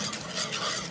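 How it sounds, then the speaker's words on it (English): A coconut milk mixture with salt for a Khmer noum sai soi dessert is stirred in a pot, a brief close scraping swirl with faint sizzle-like hiss and no voices. "We're gonna stir it"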